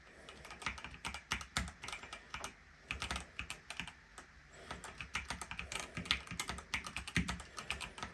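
Fingers type in quick bursts on an unusual ergonomic computer keyboard, producing close, crisp key clicks in irregular clusters with short pauses, alone without talk.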